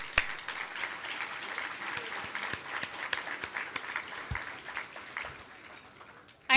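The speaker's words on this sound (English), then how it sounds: "round of applause, please" An audience at a charity partners event gives a round of applause, a sustained, moderately distant patter of many hands with sharp individual claps poking through, fading slightly before a loud bump at the end.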